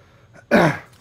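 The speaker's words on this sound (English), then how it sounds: "I hear people coughing." A single sharp cough bursts out, loud and close, lasting about a third of a second before trailing off into quiet background, in the video game Call of Duty on Rebirth Island.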